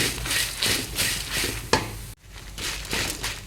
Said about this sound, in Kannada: ಇವಾಗ ಪೆಪ್ಪರ್ ತಗೊಂಡಿದ್ದು ಒಂದು ಅರ್ಧ ಚಮಚ ಅದನ್ನು ಹಾಕ್ಕೊಳ್ತೇನೆ ಹಾಕ್ಕೊಂಡು ಚೆನ್ನಾಗಿ ಫ್ರೈ ಮಾಡಿ